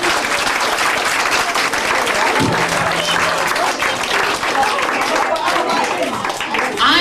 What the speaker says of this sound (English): you give them a round of applause because it relaxes them all